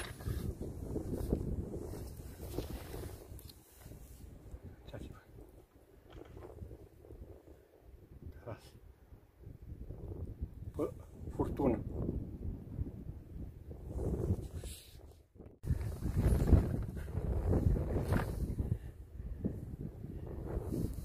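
Gusty wind buffeting the microphone in low rumbling waves during stormy weather while fishing, rising and falling throughout, with occasional faint voices in the background.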